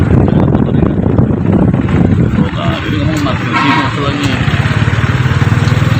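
A motorcycle engine idles and putters close by outdoors, a loud throbbing rumble throughout, with people talking over it.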